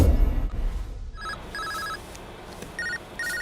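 A mobile phone rings indoors, repeating electronic ringtone bursts after a low thump at the start.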